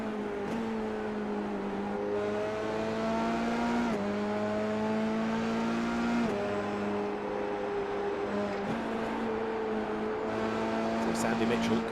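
Race cars in an esports racing game at Suzuka howl through a gear-shifting run, several engines droning together with repeated upshifts as they sweep under the gantry and into the first right-hander, with commentary talking over them.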